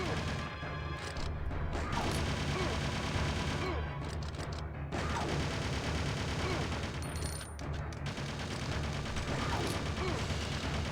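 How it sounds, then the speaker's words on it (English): Gunfire in the Resident Evil Survivor video game rattles in dense, continuous bursts of mechanical clatter and crashes, steady and loud throughout with only brief dips. "I am shooting him right now"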